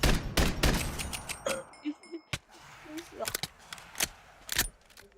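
Gunshots from a gun in modded Minecraft ring out as sharp bursts scattered through the clip, some in quick succession, with game sounds and voices in between.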